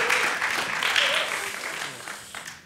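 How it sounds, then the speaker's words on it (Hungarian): An audience claps and applauds to welcome a speaker at a Friday evening church gathering, a dense, sustained burst of clapping that slowly fades toward the end. "So please give him a round of applause."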